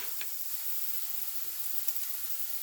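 Onions sautéing in olive oil in a skillet give off a steady, soft sizzle with faint crackles, low and continuous with no voices.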